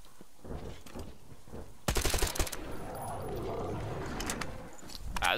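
Pistol gunfire in Metro Exodus, a quick close string of sharp shots partway through, over a steady rumbling game background with no talk.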